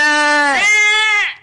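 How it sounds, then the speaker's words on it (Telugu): A sheep on board a bus lets out one loud, drawn-out bleat close by that wavers in pitch partway through and then trails off. "అమ్మా ఈ సీట్ కింద గొర్రె కట్టేసింది ఎవర్రా?"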